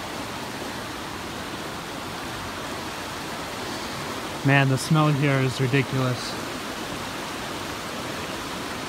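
A small river in a conifer forest rushes steadily throughout as a broad, even hiss of flowing water, with someone briefly speaking over it midway.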